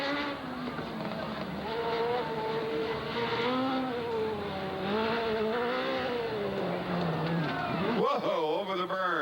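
The number 91 race car roars around Southern Oregon Speedway, its engine note rising and falling steadily as it drives, loud and close, with a commentator talking over it and a sharp revving surge near the end.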